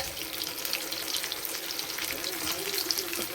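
Pieces of stingray fish fry in hot oil, giving a dense crackling sizzle with bubbling pops that continues without a break throughout, close and loud.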